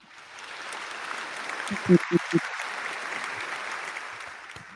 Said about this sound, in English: Let's have some applause for that